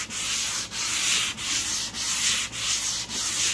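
Oak wood with grain filler is sanded by hand in about six even back-and-forth strokes, a close, dry, scratchy rasp with brief pauses between strokes.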